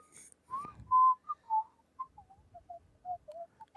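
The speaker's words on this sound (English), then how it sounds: "I whistle inhaling and exhaling" Someone whistles a short, wavering tune of breathy notes, fairly close and soft, with small pauses between phrases.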